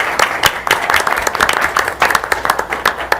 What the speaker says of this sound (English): they deserve a round of applause for coming and joining you tonight